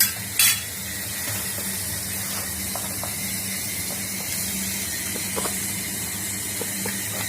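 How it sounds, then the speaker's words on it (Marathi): Prawns frying in hot oil in a pan and being stirred, a steady close sizzle with occasional light clinks and scrapes of the spoon against the pan. "कोळंबी अशी तेलात फ्राय करायची 2-3 मिनिटं अशी तेलात परतून घ्यायची"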